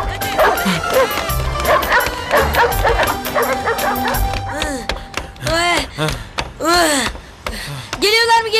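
Dogs barking in a street, a quick run of loud overlapping yips and barks, then spaced sharp barks and whimpers with people shouting over them.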